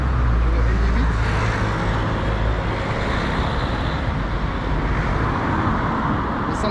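Steady street traffic with cars moving past, a continuous loud low rumble of engines and tyres on the road throughout, fairly close, with no clear individual pass standing out.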